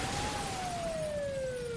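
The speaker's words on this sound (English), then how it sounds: "That's the sound of your business burning." Fire sound effect in a radio ad suggesting a burning business, a steady rushing crackle of flames under a faint siren-like wail that slowly falls in pitch, held at a low, even level throughout.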